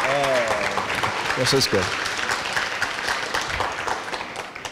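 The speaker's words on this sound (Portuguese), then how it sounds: "Palmas." An audience applauds a lawyer being introduced at a forum on racial prejudice, a dense, steady wash of clapping that carries on throughout, with a voice speaking briefly over it at the start.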